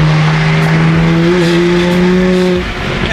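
A BMW M3 CS on the move, its engine giving a loud, steady, close drone that holds one pitch and then eases slightly toward the end, with no voices over it.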